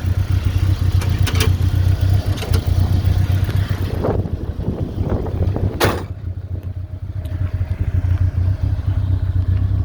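Car engine running steadily while driving, a continuous low drone with clattering and occasional revving, close and loud, no talk.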